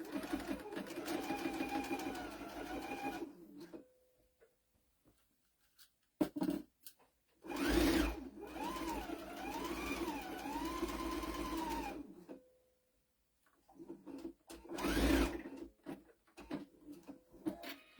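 A sewing machine runs in bursts while stitching quilt circles for a Cathedral Window quilt, its motor whirring and rising in pitch, with pauses and someone talking over it.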